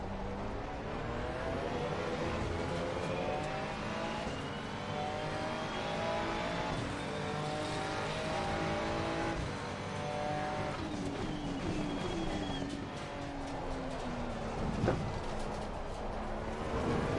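Race cars in a racing video game at Spa-Francorchamps roar continuously, with the engine pitch climbing through gear changes and other cars sweeping past with a Doppler swoop and brief tyre noise, loud and close, with no talking.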